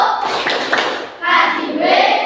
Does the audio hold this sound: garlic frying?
no